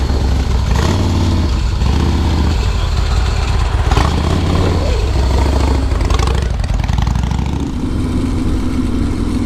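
A 2016 Harley-Davidson Softail Custom pulls away, its low engine rumbling loud and close, revving and climbing steadily with no talk over it.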